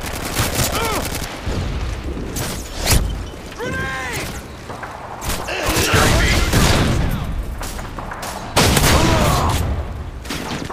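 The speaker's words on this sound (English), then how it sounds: "what is with the constant flash grenades?" Repeated flash grenade bursts and gunfire in Modern Warfare 2 Domination, with loud pops and booms scattered across the stretch amid continuous battle noise and a voice talking over it.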